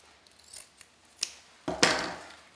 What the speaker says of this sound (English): you just fold the ribbon lengthwise and then cut